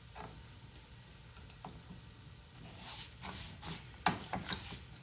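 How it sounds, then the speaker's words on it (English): Rice fries quietly in a pan for Spanish rice, a soft, faint sizzle under occasional stirring scrapes and light ticks that grow a little louder toward the end. "You can hear the rice sizzling."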